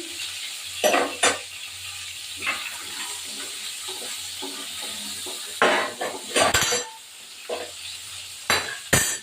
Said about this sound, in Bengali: আলুগুলো দেওয়ার সাথে একটু নাড়া দেব